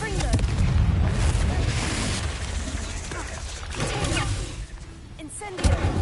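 The Confringo fire spell explodes in the video game Hogwarts Legacy, a heavy booming blast with rolling, crackling rumble amid ongoing combat noise, with voices faintly underneath.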